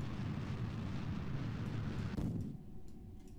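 Rocket launch in the space game Kerbal Space Program: a loud, sustained low roaring rumble of engines that abruptly drops away after about two seconds, leaving a quieter hum.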